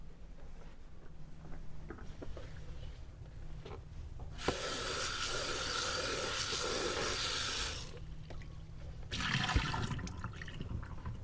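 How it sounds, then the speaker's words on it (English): Water is dumped out of a basin during bedside catheter care: a steady rushing pour lasting a few seconds, a short pause, then a second burst of pouring, fairly close and alone. "let me go ahead and dump that water real quick"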